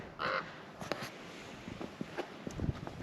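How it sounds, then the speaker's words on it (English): Ravens calling in a Utah canyon, a few loud harsh caws in quick succession near the start, then scattered fainter calls with light footsteps and rustling outdoors. "And these birds are really annoying. There's a lot of ravens out here."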